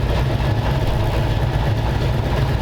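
A 1934 Ford Sedan Delivery engine idles nearby with a steady, low rumbling drone that holds at a constant level throughout, with no talk over it.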